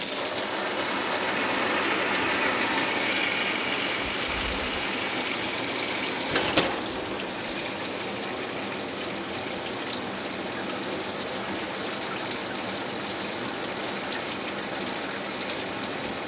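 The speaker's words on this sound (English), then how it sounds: "To me, my morning shower sounds like this." Steady broadband hiss of water spraying continuously, like a shower running, with a brief change in tone partway through and no voices.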